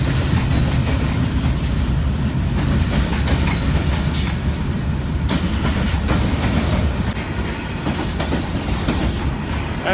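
A cargo train running from Lahore to Karachi rumbles past close by, with steady heavy wheel clatter and rail noise lasting throughout, now and then punctuated by faint metallic squeals from the wheels.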